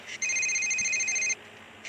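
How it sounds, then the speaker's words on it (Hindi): A telephone rings once with a loud, steady electronic tone lasting about a second, then a brief pause before the next ring starts. "तभी मोंटी का फोन आया।"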